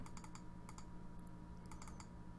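Computer mouse clicks on a mask in Vegas Pro 16 video-editing software come in a few quick clusters of sharp, close ticks over a low steady room hum.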